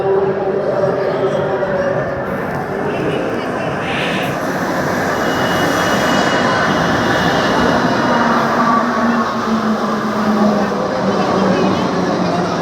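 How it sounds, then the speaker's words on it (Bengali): A loud, steady rumble of a metro train pulling into Mahanayak Uttam Kumar metro station, with a low droning hum and rising mechanical whine that fill the space throughout. "তো আমাদের এখানে মেট্রো এসে আছে বন্ধুরা, দেখো তোমরা।"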